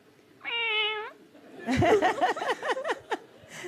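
A person imitates a cat with a short, clear meow, followed by bursts of laughter and chuckling nearby.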